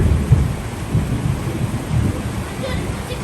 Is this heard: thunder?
yes